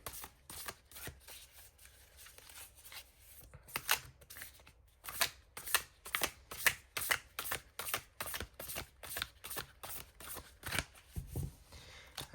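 A deck of tarot cards is shuffled by hand for a reading, giving steady, close riffling and slapping bursts that repeat in a quick rhythm over a quiet room.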